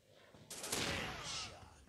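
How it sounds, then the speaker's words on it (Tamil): A single booming shot from a scoped rifle in a mobile commando shooting game rings out loud and close, then trails off in a short echoing tail. "ஸ்கோப் போட்டு ஹெட்ஷாட் ட்ரை பண்ணுவோமா?"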